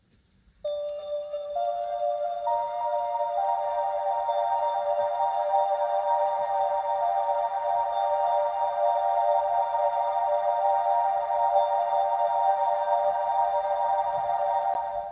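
Simple synth melody from an Arturia Pigments preset in Logic Pro X, widened and EQ'd, holding sustained bright tones that swell in and ring on steadily, alone without voices.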